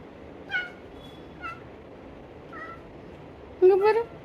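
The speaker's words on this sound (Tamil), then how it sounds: "எங்கள் வீட்டு ரெண்டு பூனை." Two pet cats meow at home, with a handful of short, close meows spaced apart and a louder, longer drawn-out cry near the end, over quiet room noise.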